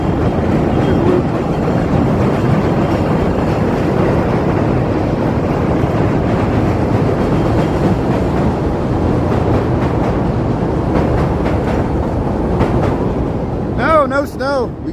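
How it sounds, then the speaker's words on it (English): Chicago L Brown Line train rumbling and clattering overhead on the elevated tracks in the South Loop, loud and continuous, heard from the street at noon in January, with high squealing wheels near the end and a voice talking over it. "There's the Brown Line heading to the loop."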